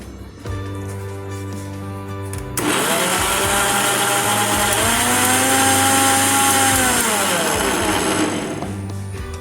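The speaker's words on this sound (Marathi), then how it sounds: "आता मी मिक्सरमधनं फिरून घेते" A mixer grinder starts with a sudden loud whine and runs steadily for several seconds while blending Hapus mango pulp, its pitch dipping slightly under load before it cuts off.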